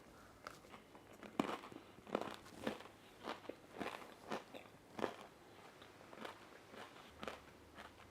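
Biting into and chewing a crunchy puff-pastry bite, a series of crisp crackling crunches close to the mouth over about eight seconds, irregular in rhythm with no talking.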